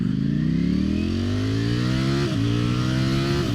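A 2021 Ducati Streetfighter V4S accelerates hard, its engine note climbing steadily through the revs, with a brief dip at a gear change before it pulls upward again, loud and close throughout.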